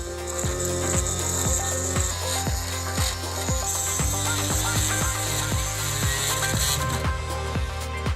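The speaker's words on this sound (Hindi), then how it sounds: "अब चलो एक पतली ड्रिल लेते हैं और सिलेंडरों को ड्रिल करना शुरू करेंगे।" A thin drill bit bores into the pins of a lock cylinder, giving close, gritty metallic grinding with repeated catching clicks and whines as the bit bites and slips, steady and without speech.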